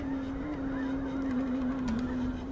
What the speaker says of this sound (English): Migratory birds from the Arctic have arrived to spend the winter here.